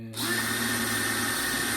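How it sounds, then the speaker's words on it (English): A power drill fitted with a countersink bit spins up and bores countersinks, a steady close, loud whine that holds evenly throughout with no talking. "this is a countersink bit, and I'm gonna just do some countersinking here"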